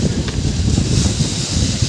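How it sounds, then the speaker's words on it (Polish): Steady strong wind buffets an outdoor microphone, a continuous low roaring rumble with no break across the short stretch. "Wiatr wieje."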